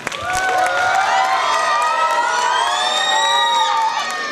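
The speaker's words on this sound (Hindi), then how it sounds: "सो आसिफ सर के लिए एक बार तालियां हो जाए" Crowd of schoolchildren and audience at a school annual celebration cheering and shouting loudly for a teacher, a dense sustained roar of many high voices with whistling tones, steady throughout.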